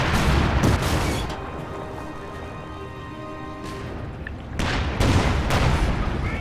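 Booming artillery and explosions in the strategy game Company of Heroes 2, with heavy blasts at the start and again near the end, separated by a quieter rumbling stretch.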